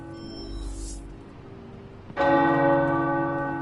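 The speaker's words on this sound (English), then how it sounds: "it's good to hear those bells again after all this time" Church bells ring in the Marvel's Midnight Suns video game, with a faint tone at first and then a loud, resonant bell strike that rings on and sustains.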